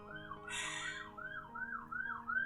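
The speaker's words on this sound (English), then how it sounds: "And there's the police car." A police car siren wails in rising and falling sweeps, fairly faint and distant, with a brief higher whistle-like tone near the start.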